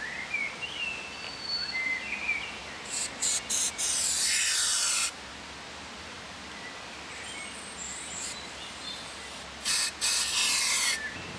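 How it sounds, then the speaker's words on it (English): Air duster blowing dust out of drilled holes for resin anchors: several sharp, loud hissing bursts close by, one lasting about two seconds and others short, separated by quiet gaps. "I'm now going to blow any dust out of the holes using this air duster"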